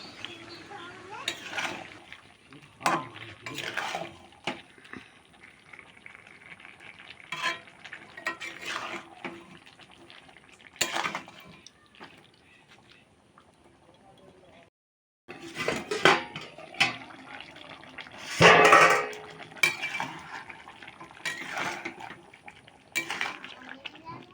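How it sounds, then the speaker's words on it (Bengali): A spoon scrapes and clatters against a pot while chicken curry with potatoes is stirred and sautéed, irregular metallic knocks and scrapes spread across the stretch, with a brief pause midway. "এরপর যে আলুগুলো রেখেছিলাম সেই আলুগুলো দিয়ে দিলাম দিয়ে আরও কিছুক্ষণ ধরে কষিয়ে নেবো"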